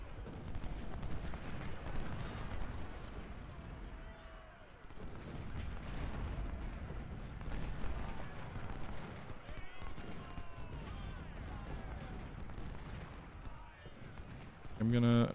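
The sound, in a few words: artillery fire in the video game Ultimate General: Civil War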